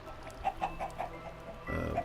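Chickens clucking inside a glass enclosure on an egg farm in a block-building video game, a few short soft clucks in a loose rhythm, then a brief louder burst near the end.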